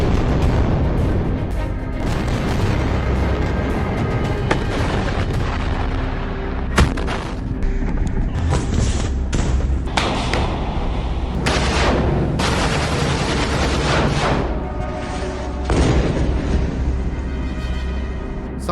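Gunfire and artillery in Gaza: dense, continuous booms and cracking shots overlap in a loud, sustained barrage, with sharper bursts standing out now and then and no talking.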